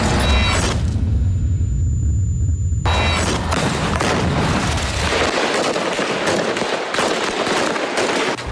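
Hamas RPG rockets striking Israeli tanks and armored vehicles in an urban area: loud, close booms followed by sustained crackling bursts of gunfire and blasts, with no talk.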